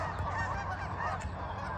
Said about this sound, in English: But I do get to enjoy the geese.